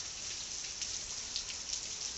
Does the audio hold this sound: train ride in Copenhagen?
no